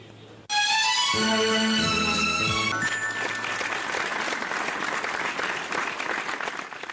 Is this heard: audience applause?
yes